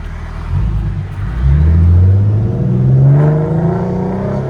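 Supercharged 2014 Mustang with a 3.7L V6 revs hard, its engine note climbing and surging in rising harmonic sweeps, loud and close, with no talk over it.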